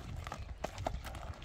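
A large horse's hooves clip-clop in a few light, irregular steps on hard ground, quiet and close, with faint background noise.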